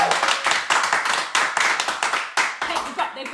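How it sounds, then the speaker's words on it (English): A studio audience gives a big round of applause during a live weekly show, dense overlapping hand claps filling the whole stretch, loud and close, with a few sharper individual claps standing out. "So can we just give them a big round of applause?"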